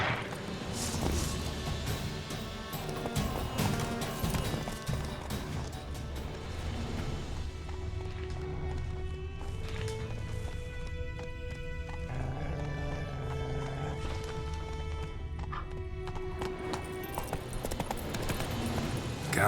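Roach the horse gallops in The Witcher 3, hooves clip-clopping in a quick rhythm with neighs and whinnies over a busy, loud backdrop of music and clatter, with no talk.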